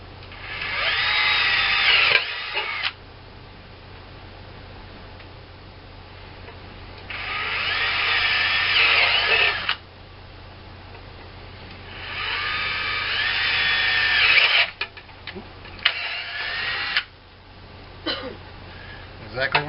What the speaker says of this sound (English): I'm just going to sit here and drill them